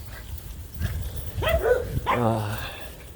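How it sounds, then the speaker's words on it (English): Several dogs bark and yelp close by as someone walks past them, a few sharp barks followed by a drawn-out whining howl, with a person talking over them. "Let me get by these dogs."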